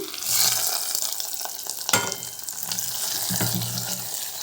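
Hot tempering hits cooked fenugreek-leaf dal with a bright sizzle, followed by crackling and a few sharp clinks of a utensil against the pot, fairly close and with no voices.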